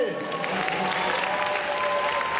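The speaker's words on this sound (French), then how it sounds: "quand on aime, on applaudit bien sûr, mais quand on adore, on se lève." At a live stage show in Paris, a crowd applauds continuously, dense clapping with a voice speaking over it.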